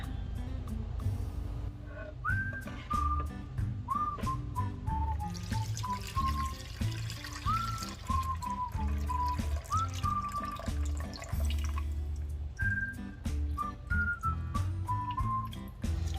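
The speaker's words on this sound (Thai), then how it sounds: "ตอนนี้เราก็จะเทน้ำออกนะคะ" Water poured out of a pot while making sago dessert, a steady trickling pour with drips and light splashes over a constant low hum and scattered clicks, with no talk.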